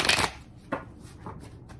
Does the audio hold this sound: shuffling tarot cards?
yes